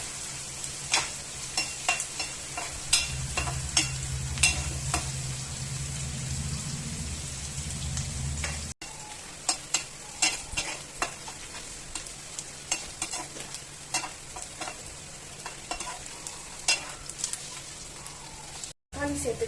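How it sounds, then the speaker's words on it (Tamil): Small shallots and sliced onions sautéing in a pan for a mutton gravy, giving a continuous crackling sizzle with repeated scraping stirs of a spoon heard up close, and no one speaking. "வெங்காயம் நல்லா வதங்கட்டும்."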